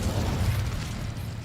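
Incendio fire spell cast in Hogwarts Legacy, a loud whooshing burst of flame that rumbles briefly and tapers off, heard alone.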